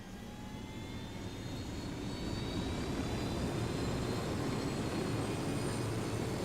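Aircraft engine droning steadily in Ghost Recon Wildlands, a continuous low rumble with a faint whine that builds slightly and holds, with no talk over it.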